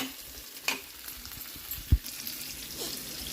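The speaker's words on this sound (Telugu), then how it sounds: "ఇప్పుడు ఇది మంచిగా ఫ్రై కావాలి" Cashews, onion and tomato frying in a pan for a gravy, giving a soft, steady sizzle with a few light stirring scrapes and taps, fairly quiet and close, with no talking.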